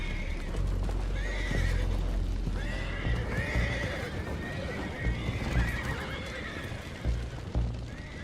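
Horses in the video game Red Dead Redemption 2 neigh and whinny loudly and repeatedly, with hooves clip-clopping underneath throughout.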